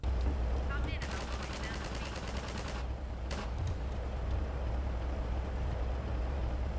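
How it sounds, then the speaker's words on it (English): NPCs fire guns in a Source engine mod video game, giving a rapid rattling burst of automatic gunfire followed by a sharper single shot, loud over a constant low background hum. "every time an NPC fires one of those guns"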